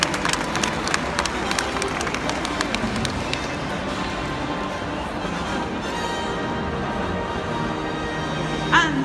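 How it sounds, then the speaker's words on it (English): An audience at a dog-training bronze award test gives a round of applause, scattered claps and cheers ringing out in a hall, with some talk and movement in the background. "a big round of applause"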